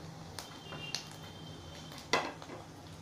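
A spoon scrapes and clinks in a pan while fried onions are mixed with turmeric, cumin, coriander and red chili powder, with a few soft metallic taps and one sharper clank, close and quiet.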